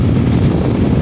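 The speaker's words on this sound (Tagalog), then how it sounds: "lakas ng hangin." Strong wind buffets the microphone of a riding motorcycle in a loud, continuous low roar with no let-up.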